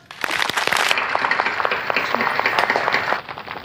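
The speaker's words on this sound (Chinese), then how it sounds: "大家掌声欢迎" An audience at an evening contest welcomes a contestant with loud, dense applause that swells at once and holds steady for a few seconds before thinning out.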